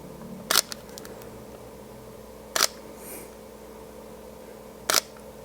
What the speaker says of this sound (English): The Sony A7 IV, that's a very pleasant shutter, mirrorless camera, extremely good camera.